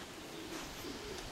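Pigeons cooing softly close by as the birds land on a hot, still day, a brief low murmur with no talking.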